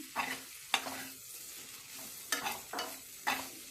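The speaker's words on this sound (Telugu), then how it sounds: "దొండకాయ ఫ్రై ఇంకా ఎగుతానే ఉందండి" Ivy gourd stir-fries in a pan, a soft sizzle broken by several sharp scrapes of a spoon at irregular intervals, fairly quiet and close.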